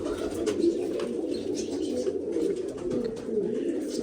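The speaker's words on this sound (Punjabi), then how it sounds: "ਕਬੂਤਰੀ ਆਈ ਬਾਬੇ ਆਪਣੀ ਉੱਡ ਕੇ" Pigeons cooing close by, a continuous low, throaty warble that keeps going without pause, with faint chirps above it and no clear talking.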